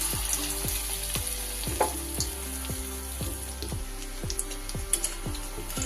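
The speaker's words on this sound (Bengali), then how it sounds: "এইভাবে এগুলোকে আমি এবার ভেজে নেব" Egg fritters fry in hot mustard oil in a wok, a steady close sizzle broken by regular spatula scrapes and stirs about every half second, with no talking.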